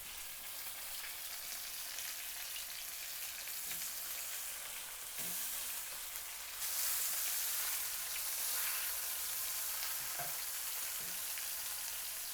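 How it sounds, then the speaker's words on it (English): Already-cooked meat browns in a non-stick pan with a soft, even sizzle and crackle, plus a few light utensil taps and scrapes, faint and unbroken, with no talking. "Remember, we're not here to cook this. It's cooked. We're just browning."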